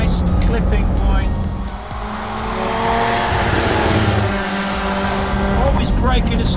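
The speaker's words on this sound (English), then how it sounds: "so I'll just stab the brakes there again, turn it in, nice clipping point" A race car on the track at Cadwell Park roars loudly and continuously as it brakes hard and turns in toward the apex, with engine note dipping and rising and faint tyre noise underneath.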